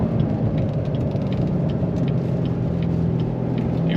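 A Corvette C7 Stingray Z51 Premiere Edition with a seven-speed manual transmission rumbles steadily from inside the car as its engine is downshifted, a loud, continuous low drone with no voices.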